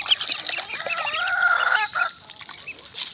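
Native ducklings raised at a pond calling close by, a busy overlapping stream of high, thin quacks and peeps that fades to quieter scattered calls near the end.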